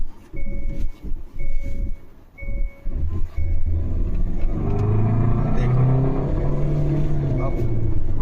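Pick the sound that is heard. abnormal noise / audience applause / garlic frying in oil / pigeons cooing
abnormal noise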